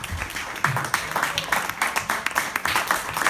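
Stand-up comedy club audience clapping for the comics who performed earlier in the night, a steady patter of many hands filling the room with soft peaks throughout.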